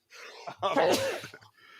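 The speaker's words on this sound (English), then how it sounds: "Hold on, I'm about to sneeze." A single close, loud sneeze burst, preceded by a short intake of breath and trailing off into quiet.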